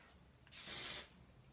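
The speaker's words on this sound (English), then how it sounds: "So if you want to just spray slightly when you're finished" A single short burst of hairspray hisses close by for about half a second, misting over a finished top knot hairstyle in a quiet room.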